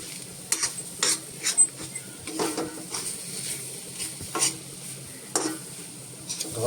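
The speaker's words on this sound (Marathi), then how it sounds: "एक 2 मिनिटं हे सारखं परतत राहायचं म्हणजे ह्याच्या गुठळ्या होणार नाहीत" Flour mix is stirred and roasted in a pan, a spoon scraping and clinking at irregular intervals over a faint, steady sizzle, close and fairly quiet, with no talking.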